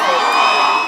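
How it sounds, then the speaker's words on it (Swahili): At a public event for affordable housing in Nakuru, a crowd cheers and whoops loudly in a brief, dense burst. "Makofi!"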